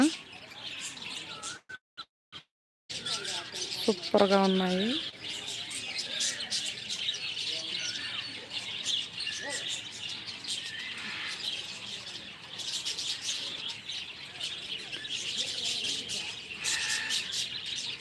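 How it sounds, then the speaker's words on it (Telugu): Many kinds of parrots chirp and squawk in a busy chorus at a zoo, with sharp calls rising over a constant background murmur and brief talk. "ఇన్ని రకాల చిలుకలు ఉన్నాయి ఇక్కడ"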